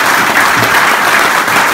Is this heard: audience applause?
yes